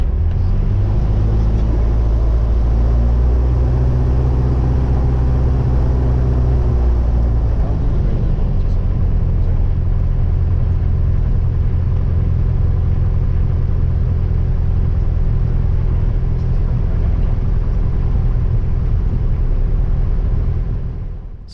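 Light aircraft G-ISHA taxis off the runway over muddy ground, its engine a loud, close, steady low drone with a deeper rumble that shifts and settles after several seconds, then holds until fading at the end.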